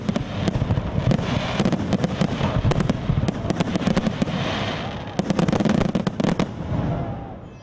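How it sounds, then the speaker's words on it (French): A fireworks display closes an evening of festivities, with dense crackling bursts and sharp pops rolling continuously over a loud background roar, then thinning toward the end. "La soirée s'est conclue par un magnifique feu d'artifice."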